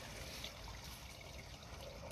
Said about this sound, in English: I had the homeowner flush the toilet